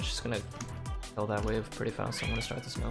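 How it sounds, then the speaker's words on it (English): A pet cat meows indoors several times in a row, with short tonal cries rising and falling while a person talks over it during a League of Legends gaming session. "Yeah, that's my cat."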